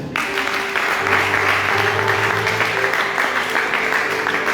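A church congregation applauds together in a sustained, full burst of clapping that fills the room evenly, with a low musical tone humming underneath.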